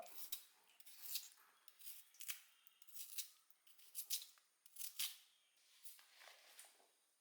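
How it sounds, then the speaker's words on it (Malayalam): A knife chops taro (colocasia) on a board in a kitchen, giving about a dozen quick, crisp, closely miked taps in an irregular rhythm with no voices. "ചേമ്പ് പിന്നെ നമുക്ക് ഇങ്ങനെ ഒന്നും കൊത്തിട്ട് കൊടുക്കാം"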